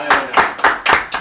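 Five distinct claps at a quick, even rhythm from a small audience at a comedy talk show, close and fairly loud, with little else between the beats.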